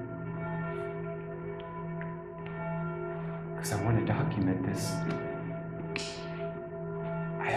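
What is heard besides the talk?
church bells ringing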